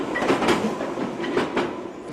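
A London Underground tube train runs along electrified track, wheels clattering in a rhythmic clickety-clack with rumbling passes, fairly close and steady, with no voices.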